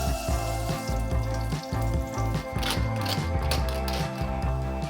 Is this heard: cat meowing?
no